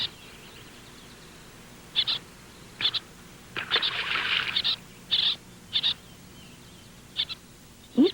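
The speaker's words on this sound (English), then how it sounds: "Even though many birds are calling at the same time, the parents seem to have no problem finding their own chicks." Seabirds and their chicks calling together on a pebbled shore, a string of short, sharp high calls repeating every second or so, with one longer burst of overlapping cries in the middle, heard at moderate distance over a quiet background.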